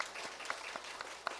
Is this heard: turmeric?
no